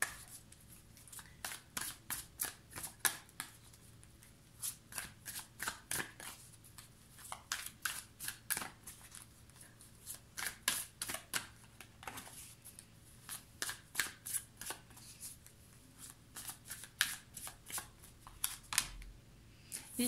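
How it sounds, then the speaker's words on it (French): Tarot cards being shuffled and drawn by hand, a steady run of faint, crisp flicks and riffles repeating close by for a long stretch with no voice over them. "Je vais vous tirer 3 cartes et après on va voir les messages que j'aurai pour vous"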